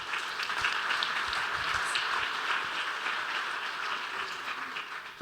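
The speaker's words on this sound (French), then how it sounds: "on peut applaudir" Applause from the audience at a round-table session, a steady, even patter of many hands clapping throughout without a break.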